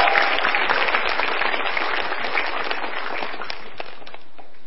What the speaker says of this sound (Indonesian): Jadi tepuk tangan untuk Hifzi Hoir.